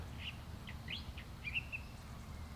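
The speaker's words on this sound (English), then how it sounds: "I heard a bird." Several short, bright chirps and whistled phrases from a songbird, sounding like a California thrasher, come in separate bursts at moderate distance over a steady low background rumble.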